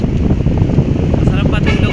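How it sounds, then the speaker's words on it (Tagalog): Strong wind at Manila Bay buffets the microphone in a loud, constant rumbling roar, with no break across the short stretch. "Lakas ang hangin."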